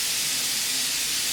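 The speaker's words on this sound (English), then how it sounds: "I'm actually just going to run my knife under hot water" Hot tap water runs steadily over a kitchen knife, giving a continuous close hissing splash that stays even throughout with no talking.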